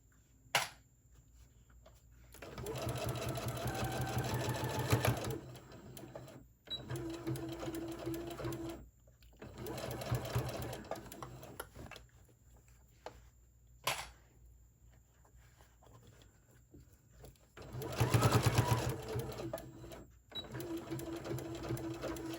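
A sewing machine stitches a tote bag strap with polyester thread at a 2.5 stitch length, running in several short bursts of a few seconds each, separated by quiet pauses, sharp clicks and light fabric handling.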